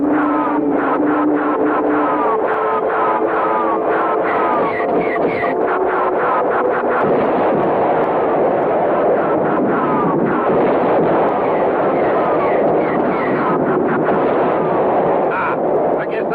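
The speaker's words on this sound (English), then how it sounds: "Start firing, Taurus." Gunfire effects from a space-adventure radio drama, a dense continuous roar of rapid shots and blasts over steady wind-like noise, loud and sustained throughout, with voices of the crew talking over it.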